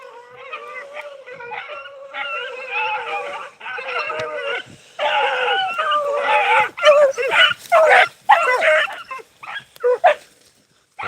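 A beagle pack bays and yelps in bursts while running a rabbit, several hounds overlapping with high howling cries that grow louder and more broken toward the end.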